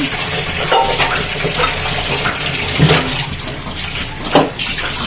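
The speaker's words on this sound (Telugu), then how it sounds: "నేనైతే చిక్కటి పాలు ఒక టీ గ్లాస్ అన్న వేసుకుంటున్నా" Thick milk pours steadily into a pot with a continuous splashing, gurgling flow, close and fairly loud, with a couple of brief knocks.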